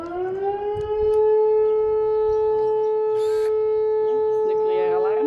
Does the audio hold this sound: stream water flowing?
no